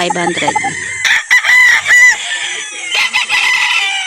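A gamefowl rooster from Mia Farm crows loudly and close, a drawn-out cock-a-doodle-doo with rising and falling harmonics, amid clucking and other farmyard noise.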